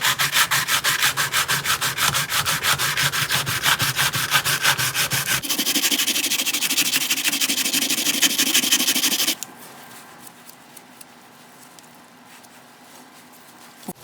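Sandpaper rubbed by hand over an antique car's faded tail light lens in fast, rhythmic back-and-forth strokes, loud and close, then changing tone before giving way to sparse quiet scuffs, with no voices.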